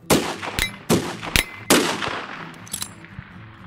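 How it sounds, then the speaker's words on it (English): Rifle gunshots at long range, three sharp cracks in quick succession with ringing decay, then fainter metallic pings near the end. "long-range shooting."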